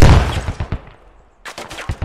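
Frag rocket fired in the video game Squad Ops, a loud booming blast that decays into scattered crackling, followed by a quick burst of sharp gunfire-like reports.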